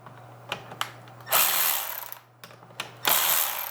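Pneumatic impact gun loosening already-loose bolts in a garage, firing in two sustained loud bursts after a few short trigger taps, with a steady low hum underneath.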